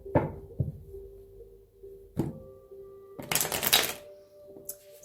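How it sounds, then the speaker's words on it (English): Tarot cards shuffled by hand, a series of sharp close taps and knocks followed by a dense burst of riffling cards, then a final flick, with no speech. "Okay, so shuffling the cards and synchronizing the energies."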